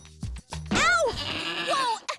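A goat bleats in an animated Bratz cartoon episode with a sporting theme: a loud, wavering bleat with a quavering cry, then a second shorter bleat, following brief character voices and sound effects.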